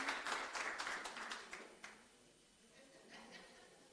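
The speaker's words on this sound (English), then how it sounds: "A round of applause, please." An audience at an afternoon conference session in a Marriott hotel applauds, a dense burst of clapping that thins out and trails off into scattered claps.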